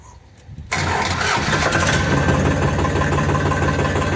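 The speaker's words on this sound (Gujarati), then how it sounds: "એકદમ આરામદાયક સ્ટાર્ટિંગ છે કે એકદમ સ્મૂથલી ટ્રેક્ટર ચાલુ થઈ ગયું" A Farmtrac 47 Promax 2WD tractor engine cranks briefly and fires up, settling at once into a loud, steady diesel idle close by.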